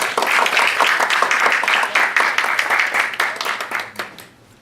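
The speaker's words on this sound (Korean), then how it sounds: "뜨거운 박수로 환영해 주십시오" Audience at an international forum on Latin American progressive governments gives a speaker a warm welcome with loud, close clapping for about four seconds before it thins out and stops.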